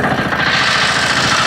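A first-generation FTI2010D tractor engine labours steadily as it climbs a slope in first gear, producing a constant, loud mechanical drone with an even vibrating hum and no breaks.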